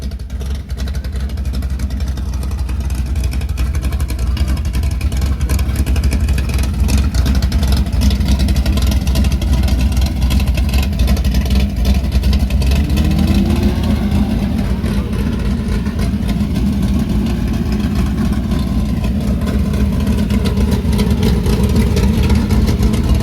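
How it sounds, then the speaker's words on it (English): Car engine at a 2023 car show in Oklahoma City, a loud, sustained deep rumble that holds steady and then builds with throttle, close up and continuous with no talk over it. "Hit the gas. Hit the throttle."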